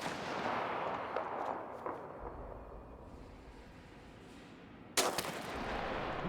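Gunfire in the war survival video game This War of Mine: a few faint, scattered shots early on, then one sharp, louder report, all over a quiet ambient background.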